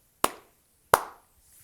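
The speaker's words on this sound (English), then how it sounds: "So you might have you might load in this hand clap," A hand clap sample loaded as the metronome click on a Roland SPD-SX PRO sample pad, two sharp, bright clap hits about 0.7 seconds apart, each with a short decaying tail, alone with no talk.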